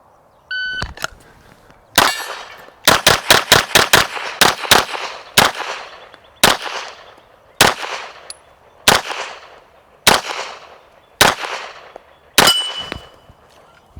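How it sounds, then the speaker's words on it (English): Gunshots ring out against steel plates at a range, about a dozen sharp reports with bright metallic clangs, starting as a fast string and then slowing to evenly spaced single shots, loud and close. "when you shoot plates like this"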